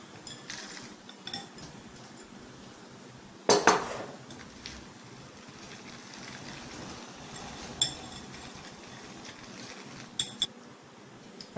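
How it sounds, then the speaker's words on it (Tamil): Biscuits dropped into an eggless vanilla ice cream mixture in a bowl, heard as a sharp clatter of utensil against dish around the middle, followed by a few lighter clinks over a faint background hiss. "இப்போ நான் வந்து பிஸ்கெட்டை சேர்க்க போகிறேன்."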